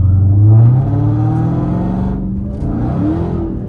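Dodge Charger Widebody Hellcat SRT with a 717 hp engine, still cold, revving and accelerating hard, a loud, close, sustained roar rising in pitch, easing briefly, then climbing again.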